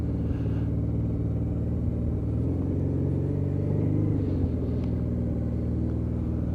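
Honda Deauville touring motorcycle running on the road, a steady low engine drone and rumble with slight swells in revs, continuous and fairly close, with no voices.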